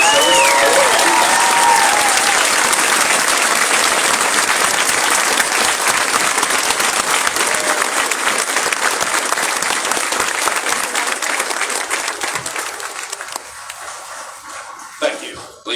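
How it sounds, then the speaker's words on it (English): A large crowd at a US Marine Corps recruit graduation ceremony in San Diego applauds loudly and continuously, the clapping gradually thinning and fading out at the end. "Ladies and gentlemen, a round of applause for their dedicated service to our country."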